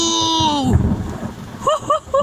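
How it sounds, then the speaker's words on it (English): Thunder from a lightning strike over Doniford Bay, Somerset, during a heavy storm: a loud, low rumble rolls in right after an excited shout and fades under further exclamations. "Whoa! I got that lightning strike!"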